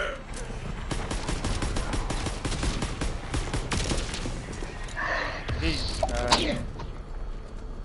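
Rapid gunfire in a World War II video game, a steady stream of close shots and bursts over game noise, with voices talking partway through.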